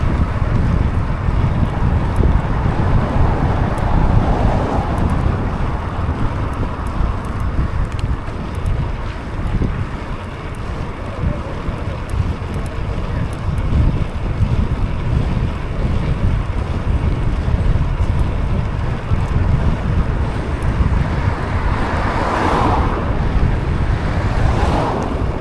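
Strong wind roars across the microphone of a cyclist riding through Dublin, a loud continuous buffeting rumble lasting the whole stretch with only slight dips.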